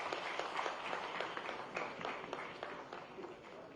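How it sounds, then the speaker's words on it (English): Scattered applause at a government MoU signing ceremony, a modest crowd clapping steadily at moderate level with some close individual claps standing out, no voices over it. "Please give a round of applause."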